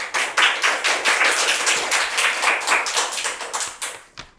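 Applause for a junior-category contestant at a public speaking competition, a small close group clapping in a brisk, fairly even rhythm for a few seconds before trailing off to a last few claps.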